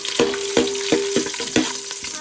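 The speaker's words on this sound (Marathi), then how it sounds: "आता यात कांदा टाकलाय, त्यानंतर जिरं, मिरची टाकली आहे" Onion, cumin and green chili sizzle in hot oil in a pan for biryani, a steady close frying hiss broken by about five sharp stirring scrapes at a regular pace.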